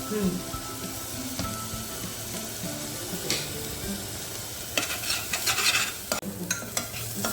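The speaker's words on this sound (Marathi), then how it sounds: "त्यातच मसाला टाकायचा आणि मग चांगलं भाजून घ्यायचं ना" Spice masala being stirred and roasted in a pan, a steady close sizzle with repeated scraping strokes and occasional louder clatters of the utensil, no voices over it.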